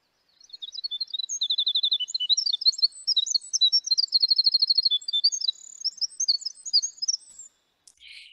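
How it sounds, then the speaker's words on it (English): Recorded wild bird song heard along a hiking trail: a quick, bright explosion of chirps and rapid trills packed into one continuous burst lasting several seconds, clear and close with no voices. "when you're out and you hear this bird, it's just an explosion of notes"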